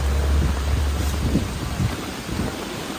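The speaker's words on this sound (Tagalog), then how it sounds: "malakas na po yung ulan" Steady heavy rain from a typhoon in Taiwan roars with a deep rumbling low end, continuous and close, with no voices.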